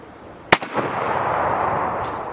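A CZ527 rifle chambered in 7.62x39 fires a single sharp, loud shot at an outdoor range, followed by a brief echo and a faint distant report near the end.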